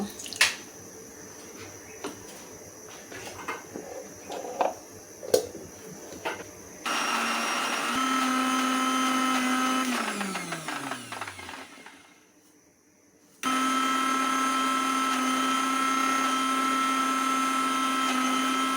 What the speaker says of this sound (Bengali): এখন কলার খোসা ব্ল্যান্ড করব ব্ল্যান্ডারের বাটিতে